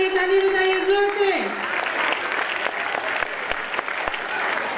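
Audience applause at a school annual gathering, a clapping crowd rising after a sung or spoken tone fades, then steady claps with a voice speaking over them.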